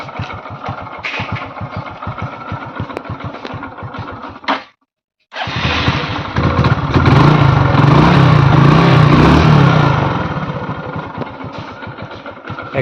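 A Hero Glamour BS4 motorcycle with about 53,000 km on it idles with a steady, even, close putter, cutting out briefly before running on smoothly and swelling a little louder for a few seconds.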